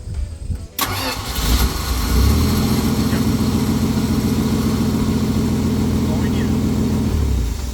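A Dodge Power Wagon truck's swapped-in engine cranks and catches after a short silence, then settles into a steady, loud, close idle with a rhythmic low throb that runs to the end.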